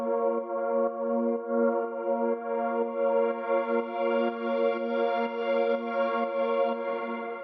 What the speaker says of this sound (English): After that we have the pad, which is 2 layers, and it sounds like this.